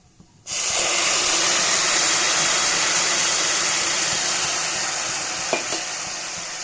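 Hot liquid poured onto vermicelli (semiya) cooking with melted sugar sets off a sudden loud, steady sizzling hiss after a short quiet start. The hiss fades slightly over several seconds.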